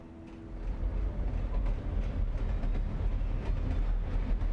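Passing train in the video game Alan Wake Remastered, a deep rumbling rolls on continuously with faint rhythmic clatter and scattered metallic clicks, moderately close and without voices.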